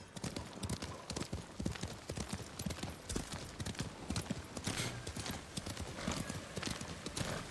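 Rapid hooves of a horse in the video game Ghost of Tsushima clip-clop at a steady galloping rhythm, with a brief horse whinny mixed in.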